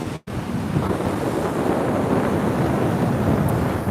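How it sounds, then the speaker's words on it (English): Strong wind at Laguna Beach roaring and buffeting the microphone, a loud continuous rush likely blended with surf, briefly cut near the start then steady throughout. "And it's very windy."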